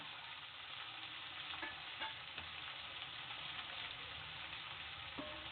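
Tomatoes fry with mustard seeds in a pan for avrekalu, a steady close sizzle with occasional brief pops and stirring scrapes, no voices.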